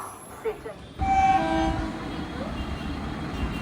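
A brand new pink ICF EMU local train from Pandua to Howrah rolls in with a loud, rising rumble, and a long horn note sounds over it as it nears the platform. A voice is faintly heard early on.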